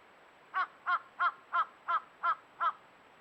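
A crow caws seven times in a steady, evenly spaced series, each call harsh and fairly close, standing out clearly over a faint, quiet background.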